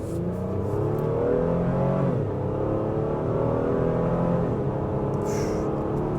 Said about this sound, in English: I really like the way this V6 sounds